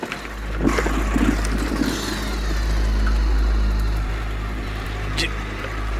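A motorbike engine sputters and falters at night in a TV crime drama, a low rough drone rising and fading unevenly with a few clunks, while voices talk over it.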